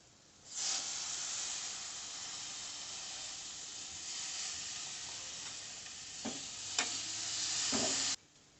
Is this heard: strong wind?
no